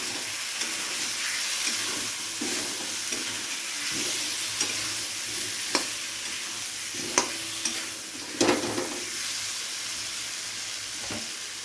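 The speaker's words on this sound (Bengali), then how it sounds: "এবারে আলুর সাথে খুব ভালো করে আদা আর লঙ্কাটাকে একটু কষিয়ে নেব" Potatoes with ginger and green chili frying in a pan for a fish head curry, with a steady close sizzle and occasional sharp clicks of stirring against the metal.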